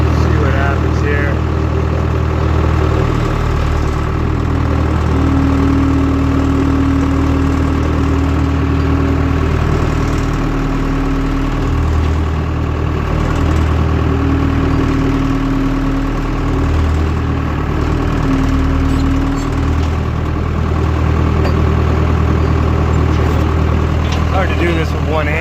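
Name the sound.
skid steer engine idling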